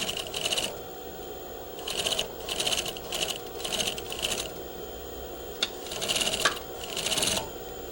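A sewing machine stitches over shirring thread in short bursts of rapid, even clatter, separated by brief quiet pauses, close and moderately loud.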